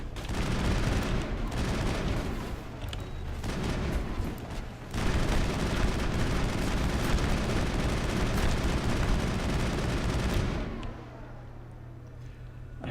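Sustained gunfire from the video game Mass Effect, a dense continuous burst of shots lasting about ten seconds with a brief dip near the five-second mark, then stopping abruptly.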